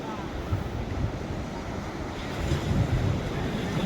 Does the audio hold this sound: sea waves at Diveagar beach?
yes